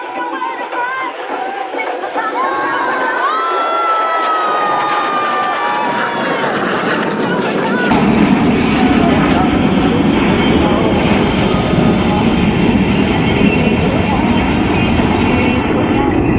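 Indian Air Force aerobatic jets sweep past at an air show at closing speeds above 1000 km/h, a rising whine swelling into a loud roaring rush while a crowd cheers and an announcer talks over it.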